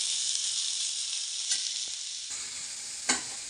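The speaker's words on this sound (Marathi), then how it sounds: "तेल टाकून आणि अशा पद्धतीने परतून घेत आहोत" Onion sautés in oil in a pan, giving a steady bright sizzle with a couple of brief clinks and scrapes as it is stirred, close and with no talking.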